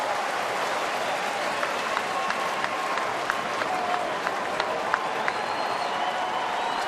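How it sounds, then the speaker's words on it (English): A crowd of about 36,000 at a Detroit Tigers baseball game against the Chicago White Sox, with broad steady cheering and clapping all the way through and a few sharper claps standing out. "Now here comes the crowd."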